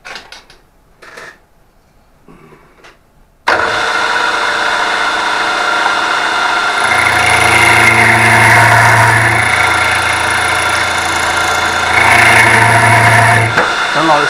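A milling machine spinning at its top speed of 1600 rpm while cutting a cast fire grate column base, starting abruptly as a loud steady mechanical whine with a deeper hum that swells in two stretches, close and continuous.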